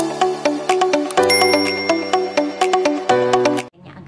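A bright bell rings in a quick repeated rhythm, loud and close, like a bicycle bell, ending abruptly; a notification bell sound effect.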